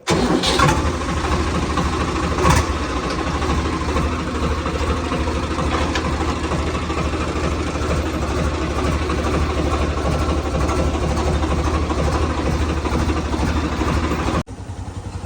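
A tractor engine cranks and catches, then settles into a steady, rumbling idle nearby for a long stretch before cutting off abruptly near the end, on a farm.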